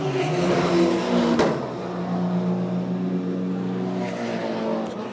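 BMW race cars lapping a circuit during a club race meeting, engines droning steadily at moderate distance with a brief sharp crack partway through, no talk over the continuous motor noise.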